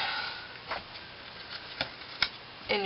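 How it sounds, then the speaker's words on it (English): Scissors cut through paper in a few separate quiet snips, close by, with soft rustling between them. "So we get our scissors out again."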